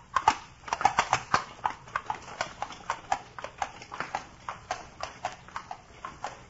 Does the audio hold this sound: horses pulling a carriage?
yes